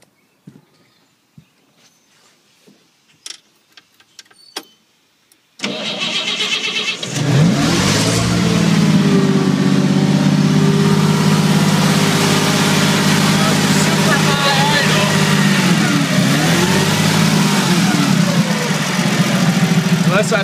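A 1971 Clark C500 Y80 forklift engine fitted with a new IMCO C100 fuel mixer catches after a few faint knocks and settles into a loud, steady, rough idle with slight swells in speed, running alone close by.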